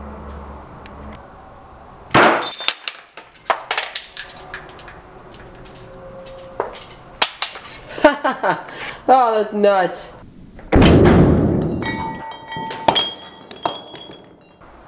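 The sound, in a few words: ruby laser shot shattering a glass soda bottle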